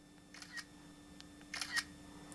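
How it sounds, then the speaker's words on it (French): A smartphone in Japan snaps photos with its mandatory shutter sound: a couple of short, crisp clicks close by in an otherwise quiet room. "Je vais prendre une photo avec mon téléphone portable."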